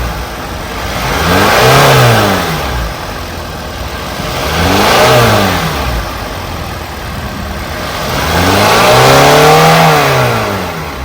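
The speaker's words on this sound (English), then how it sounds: "He's gonna rev it up for me just so y'all can hear" A 2023 Hyundai car engine revs up three times in long swelling bursts, each rising in pitch then falling back to a rumbling idle, close and loud.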